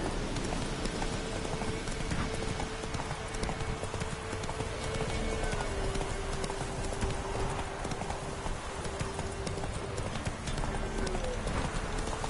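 Roach's hooves clip-clop steadily at a trot on a road in The Witcher video game, a continuous rhythmic beat over an ambient game backdrop, with no talk.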